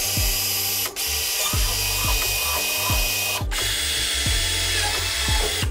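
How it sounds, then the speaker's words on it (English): Repeated short bursts of a power drill boring small pilot holes into a C6 Corvette widebody front fender, each whir rising and cutting off, close and loud with brief pauses between holes. "I'm gonna drill these little holes first and then go with the big ones"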